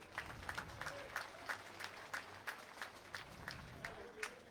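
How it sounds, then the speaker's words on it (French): A crowd applauds at a petanque team final in Draguignan, with sparse, scattered claps sounding as distinct separate strikes at a steady pace, fairly faint and distant. "je pense que quelques applaudissements vont peut-être les réveiller."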